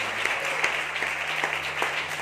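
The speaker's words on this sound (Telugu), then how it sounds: "నమ్మిన వాళ్ళు చప్పట్లు కొట్టి దేవుడు స్తుతించండి" A church congregation clapping in praise during a Sunday service, a steady run of quick hand claps repeating in an even rhythm over a low sustained hum, fairly close, with no speech.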